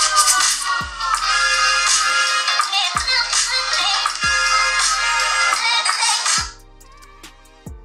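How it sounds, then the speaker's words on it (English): Music plays through a Google Pixel 5 phone speaker, bright and tinny with a thumping beat, then cuts off near the end leaving faint sound. "I'm just going to give you a quick speaker sample now compared to another phone"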